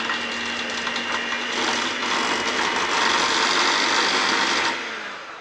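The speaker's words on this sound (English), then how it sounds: "This is a strong mixer." Electric stand mixer churning homemade chocolate chip cookie dough, a steady, loud, close motor whir with a slight rise in strain partway through before easing off.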